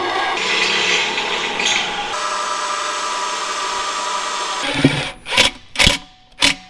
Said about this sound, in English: we're gonna cut us out a strip, 2-inch strip for a tranny mount